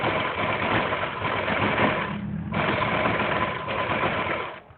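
A sewing machine stitches a dress hem in close, buzzing runs, pausing briefly in the middle before whirring on again, then stopping near the end.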